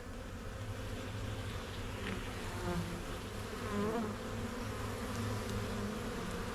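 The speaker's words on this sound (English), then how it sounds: "this many bees just hanging out on a frame" A dense, steady drone of honey bees massed on a hive frame in winter, close and continuous with faint shifting whines from individual insects. There is no talking.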